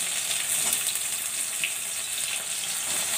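Chopped onion frying in hot mustard oil with nigella seeds, a steady dense sizzle that holds evenly throughout at close range, with no talking.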